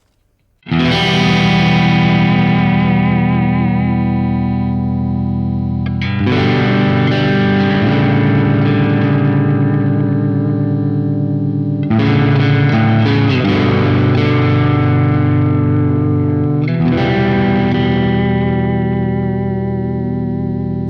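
Distorted electric guitar with heavy effects through the pickups of a Fender Ultra Luxe Vintage 60s HSS Stratocaster, mid control at 10, strummed chords ringing out in four long phrases, loud and sustained with a chorus-like shimmer and reverb.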